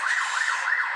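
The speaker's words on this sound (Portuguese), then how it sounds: "gente, é uma ambulância, tá?" An ambulance siren wails loud and steady, its pitch sweeping up and down in a regular cycle of rises and falls. No talk is heard over it.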